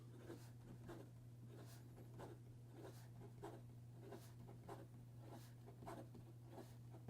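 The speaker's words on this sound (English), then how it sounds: "In regard to some fast writing," Quick scratchy strokes of a Laban Gloria fountain pen nib racing across paper, in a rapid uneven rhythm of short bursts, close and faint over a steady low electrical hum, with no talking.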